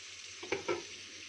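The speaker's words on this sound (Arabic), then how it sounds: "هقلب كويس مع بعض كده واظبط الخضر بتاعي" Vegetables stirred into tomato sauce for a zucchini and chicken tagine, a couple of brief soft scraping strokes close by over a low steady sizzle, with no voices.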